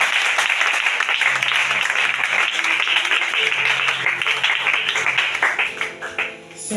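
A church congregation applauds the Lord in sustained, dense clapping that fills the room throughout, tapering slightly near the end, with background music tones underneath.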